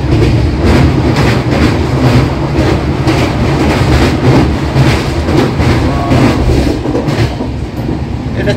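A vista dome tourist express train runs past Kotlabari station on the line from New Jalpaiguri to Alipurduar, with a steady loud rumble and a rhythmic clickety-clack of wheels on rails throughout.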